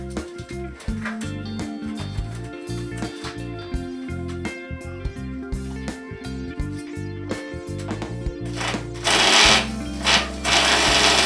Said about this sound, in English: we need this impact drill.